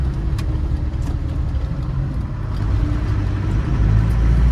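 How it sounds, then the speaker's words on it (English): 1998 Land Rover Defender 110 with a 300Tdi diesel engine downshifting into second gear while driving; a close, steady low engine rumble and cabin drone that grows louder toward the end. "we're downshift into 2nd gear"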